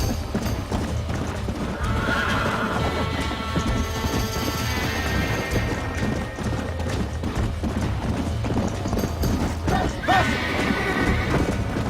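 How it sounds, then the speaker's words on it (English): Horse galloping and neighing in the video game Red Dead Redemption: steady clip-clop hoofbeats with loud whinnies over game music and crashes, continuous throughout. "Madre mía lo que corre, puto caballo."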